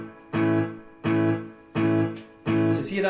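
Guitar notes through an Akai Headrush E2 tape delay set to a high ratio, four evenly spaced repeats holding nearly the same level, each a bright harmonic burst with a short tail.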